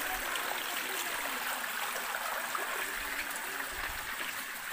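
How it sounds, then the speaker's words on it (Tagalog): Water flowing at the foot of a waterfall on a mountain, a steady close rushing and trickling wash that continues evenly without talk. "Na kami sa paanan ng falls"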